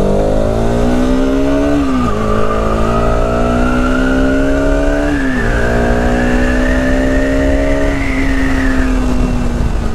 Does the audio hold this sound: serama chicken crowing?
no